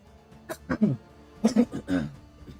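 Several short, rough coughs and throat-clearing bursts come from a person just waking up, close to the microphone, in two clusters separated by a brief pause.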